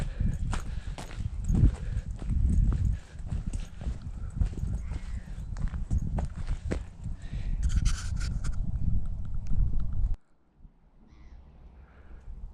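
Steady clip-clop of a horse's hooves on hard ground, close and continuous, with a bird calling faintly; the sound drops away abruptly near the end to quiet ambience.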